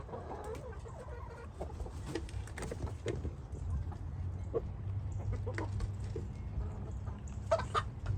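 A backyard flock of chickens, including a white hen, clucks steadily and close by over a constant outdoor background, with a few sharper calls near the end.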